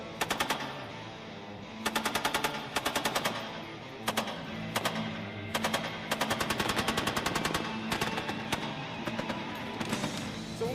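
An M240 Bravo 7.62 mm machine gun fires repeated rapid bursts with brief gaps, loud and sharp, over steady background noise at a Navy training range.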